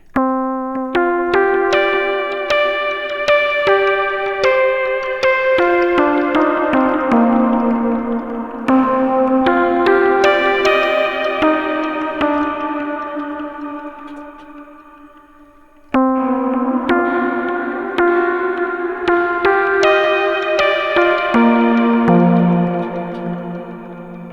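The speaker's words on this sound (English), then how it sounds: "we can also add the reverb, which also sounds very nice on the Virus" A bright synthesizer lead from an Access Virus TI, with sustained, layered notes and a long reverb tail, playing steadily with a brief pause midway before resuming.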